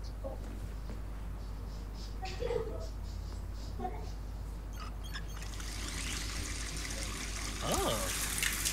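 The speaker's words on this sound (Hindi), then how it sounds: "चलो पहले हाथ धो लेता हूँ जाके।" Running water from a bathroom sink tap in the Hitman 3 Burj Khalifa level rises into a steady, hissing flow over the second half, above a constant low game ambience.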